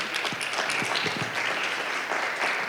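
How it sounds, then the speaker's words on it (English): Steady, moderately loud applause from an audience at a health expo and diabetes conference in a school hall as a speaker walks forward, a dense continuous wash of many hands with a few louder claps standing out. "Let's give her a round of applause as she comes forward."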